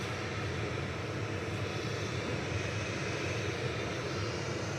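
A Ryanair Boeing 737-800 departs Manchester Airport, its jet engines a steady, distant, broadband roar that holds without letup.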